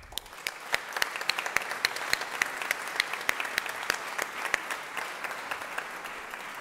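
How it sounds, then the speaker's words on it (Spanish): Warm applause fills a Chilean conference hall for a government minister and the Senate president, dense steady clapping from a sizable audience with sharp individual claps standing out throughout, no talking over it. "y el presidente del Senado, Carlos Montes, con un caluroso aplauso para ambos."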